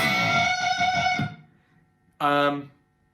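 Sustained distorted electric guitar unison bends, two strings played together, with a wavering, beating pitch, a short pause, then another loud screaming bent note rings out and fades.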